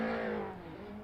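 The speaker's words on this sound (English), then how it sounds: "Driving the BMW M3" A BMW M3 touring car racing on the Nordschleife in a vintage touring car series, a single sustained engine roar passing close by and easing off slightly within a second.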